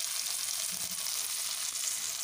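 Onion and tomato fry with turmeric powder and Kashmiri chilli powder in a pan, a loud, continuous close sizzle with faint scraping stirs underneath and no talking.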